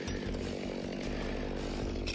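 A chainsaw run by a climber high in a large tree gives a steady, buzzing engine drone, fairly faint and continuous for a couple of seconds.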